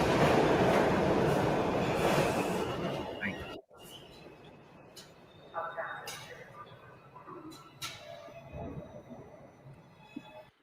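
A New York City subway train rumbles loudly through a station for several seconds, then cuts off abruptly, leaving quieter station noise with scattered clanks and bursts.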